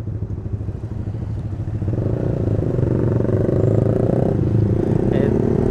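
Motorcycle engine rumbles close by during a Sunday morning group ride toward the Solo palace, idling low then revving up steadily, with crowd noise and clatter around it.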